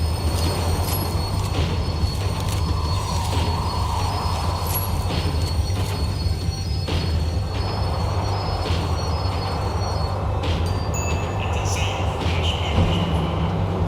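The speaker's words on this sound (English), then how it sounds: "The tram was slowing down, and I'd only just gotten on board." A tram slowing down in the video game Max Payne 3 gives a continuous heavy rumble with metallic wheel squeals and creaks, loud and close throughout.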